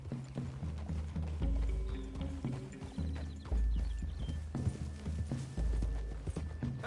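Horse hooves clip-clopping at a steady walking rhythm, fairly close, with some low rumbling and movement noise around them.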